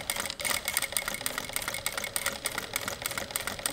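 A sewing machine stitching fabric runs steadily at close range, its fast, even mechanical chatter continuing without pause and with no talk over it.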